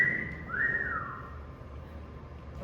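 A person whistles to imitate a child in a car, one sustained thin tone that swoops upward and then slides back down, clear over a low steady background rumble.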